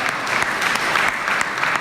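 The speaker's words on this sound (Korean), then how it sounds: "우리 하나님께 다시 한번 뜨겁게 영광의 박수 올려드리겠습니다." A church congregation applauds during an Easter Sunday service, a dense, even wash of clapping from many hands that fills the room and continues at a steady level.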